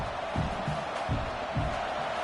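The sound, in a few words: stadium crowd noise in a football video game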